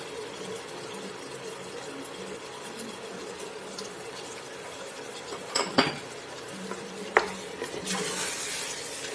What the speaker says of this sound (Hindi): मिक्स करेंगे अच्छी तरह से।